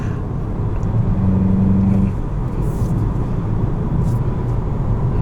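The turbocharged engine of a Kia Forte GT drones loud and steady from inside the cabin, a dense low rumble with a brief tonal whine partway through.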